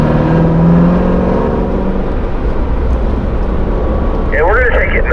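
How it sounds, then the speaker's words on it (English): Car pulling onto the Spring Mountain Motorsports racetrack during a performance driving school session, engine note rising steadily as it works up through the gears, loud and close under a continuous voice talking over it. "let's get rolling onto the racetrack, and we're going to smoothly work our way up into third gear prior to turn 1"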